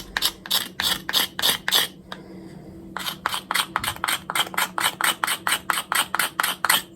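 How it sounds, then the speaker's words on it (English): A blade scraping a hand-carved Swedish wooden butter knife, a rapid series of short rasping strokes in regular rhythm, close and crisp, with a brief pause of near silence before the strokes resume. "Scraping it a little bit."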